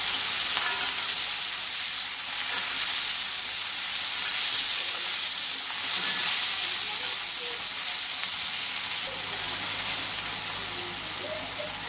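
Tomatoes sauté in a pan for a spicy chutney served with idli, a dense, even, rain-like sizzle that stays close and steady and eases slightly near the end.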